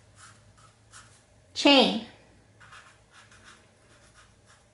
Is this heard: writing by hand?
yes